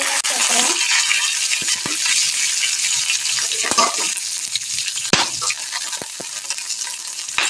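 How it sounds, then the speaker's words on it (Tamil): Fennel seeds frying in hot oil, a close, continuous crackling sizzle with sharp spluttering pops and occasional utensil clinks. "பெரிய சீரகம் சேர்க்குறேன் பொரிஞ்சு வர விட்டு"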